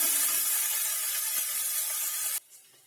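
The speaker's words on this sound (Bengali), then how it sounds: "রসুন ভেজে নেব ভালোভাবে।" Garlic paste frying in a pan after ginger for a spicy Bengali dish, a steady, close sizzle and hiss that cuts off abruptly near the end, leaving quiet.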